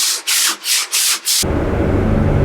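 Five quick, raspy sanding strokes on a sailboat's outer hull scrape in a steady rhythm, then give way to a continuous low, rough rumble.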